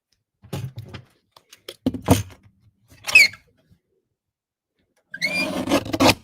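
Card box for a Christmas card being trimmed, giving a few short scraping cuts of paper separated by pauses, then a longer rustling burst near the end, close and fairly quiet with no talking.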